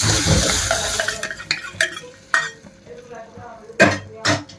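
Pumpkin koottu being stirred in a pan, with a spoon scraping and clinking against the metal in several short, uneven bursts over a faint sizzle, close and moderately loud.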